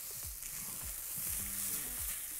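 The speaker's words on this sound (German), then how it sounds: "Und jetzt wird eben das Reis so ein bisschen gedünstet, sodass es schön glasig ist." Rice sautéing in a pan for a creamy Hokkaido pumpkin risotto, a constant close sizzle with soft repeated scraping strokes of a stirring utensil, no talking over it.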